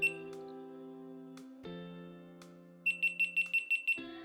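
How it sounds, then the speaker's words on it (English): A quick series of seven bright electronic beeps in steady rhythm from a GoPro 9 action camera, preceded by a couple of single beeps, with a low hum and tones underneath. "3 beeps will tell you it's turned on and recording"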